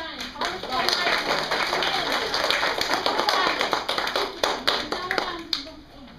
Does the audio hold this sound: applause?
yes